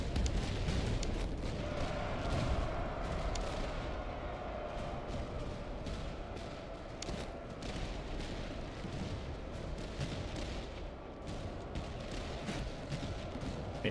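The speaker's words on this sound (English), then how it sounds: "artillery is having its effect over there" Artillery fire in the Master of Command strategy game: a continuous rumbling barrage of booms and distant blasts, steady and dense throughout, with no distinct individual shots standing out.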